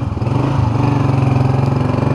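Honda 125 motorcycle engine putting along slowly in first gear, a steady, close, loud throbbing drone with a rapid regular pulse and no audible talk.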